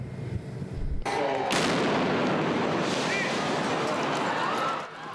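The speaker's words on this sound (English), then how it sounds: "Two bombs detonate seconds apart, bloodying spectators and knocking runners off their feet." At the Boston Marathon finish line, two bombs detonate seconds apart: a loud, sustained roar of blasts and rumbling chaos fills the scene, with crowd noise and distant voices mixed in.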